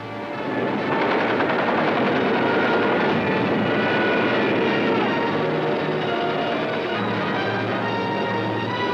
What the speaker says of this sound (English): Some of the German bombers broke through London's defenses